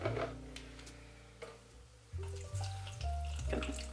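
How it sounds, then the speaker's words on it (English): About a cup of water poured into the bottom of a turkey roasting pan, a short run of splashy trickling with a few clinks and a rising, gurgling fill near the end, close by and quiet. "I'm actually going to add about a cup of water in the bottom."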